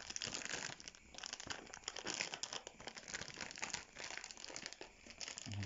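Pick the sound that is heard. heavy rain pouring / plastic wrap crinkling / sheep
plastic wrap crinkling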